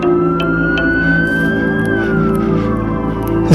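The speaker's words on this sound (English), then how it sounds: "It sounds like an ambulance." A loud, close ambulance siren wails with a rising then falling tone, steady engine hum beneath it, no talking.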